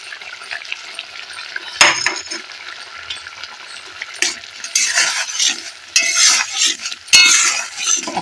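Mustard paste stirred into a frying pan with cooked hog plums for chutney, a soft steady sizzle under scraping and clinking of a utensil against the pan, with louder bursts of stirring near the end.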